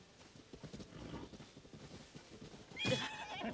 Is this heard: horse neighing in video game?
yes